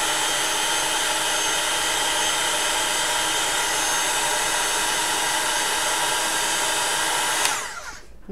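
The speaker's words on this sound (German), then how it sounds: "Nehmen wir einen Föhn." A hand-held hair dryer blows steadily and loudly at close range while drying stamped ink on a craft piece made with a wooden stamp, its airflow running unbroken for several seconds before clicking off near the end.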